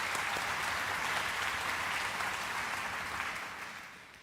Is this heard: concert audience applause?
yes